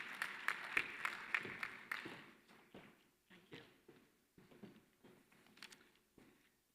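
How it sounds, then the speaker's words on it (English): Audience applause at a basic education sector conference, a brief burst of clapping that quickly thins to scattered, faint individual claps and taps. "So a big round of applause for the Finnish Ambassador for Education."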